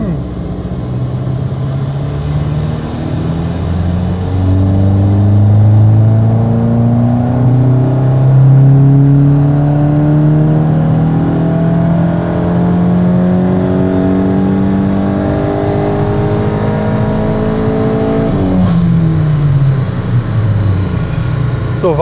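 Tuned VW Golf 8 GTI Clubsport engine revving hard under load, likely on a dyno, with a loud rising engine note that climbs steadily, drops sharply near the end and then settles, running continuously and close.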